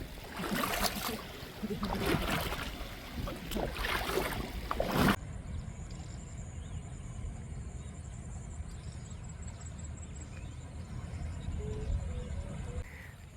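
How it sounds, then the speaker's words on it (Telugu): A flooded forest stream, the Jaripothu vagu, swollen after a storm, rushing in a steady broadband roar, with a brief louder stretch at the start before settling into a continuous close torrent. "ఈ వాటర్ అంతా ఈ వాటర్ చూడండి ఎంత వెళ్తుందో ఈ జరిపోతు వాగు కూడా పొంగి"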